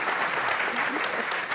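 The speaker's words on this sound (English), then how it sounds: "Let's give them a round for getting applause." Studio audience applause after a lightning round on a climate discussion programme, brief and even, a dense patter of clapping at moderate level.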